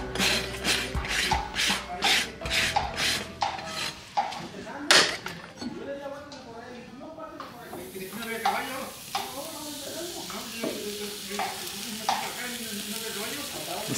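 A farrier rasps the hoof of an overdue horse in a quick series of close, gritty strokes, then stops; sizzling and crackling follow as a shoe is burned onto the left front foot.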